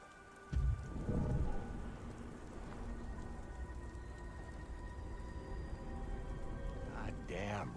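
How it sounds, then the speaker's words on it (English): Steady rain pours throughout a scene in the video game Beyond: Two Souls, a dense continuous hiss with a heavier thump near the start, and a voice speaks briefly near the end. "God damn rain."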